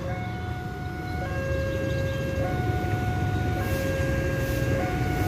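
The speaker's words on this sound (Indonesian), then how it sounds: "palang pintu sudah diturunkan dan berbunyi ya" A railway level crossing's steady two-tone electronic warning bell rings continuously as the barriers come down, switching pitch every second or so, over a constant low rumble of traffic or machinery, in Tulungagung, Indonesia.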